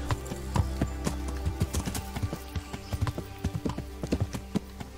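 Horse hooves clip-clop steadily in the medieval video game Kingdom Come: Deliverance, with close, crisp, irregular strikes that continue throughout, alongside a brief whinny.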